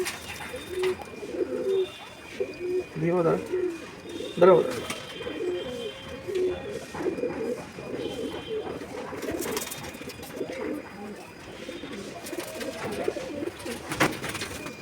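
Pigeons coo repeatedly at close range in soft, throaty rolling calls, with a few chirps and light background noise between them; voices are heard faintly at times.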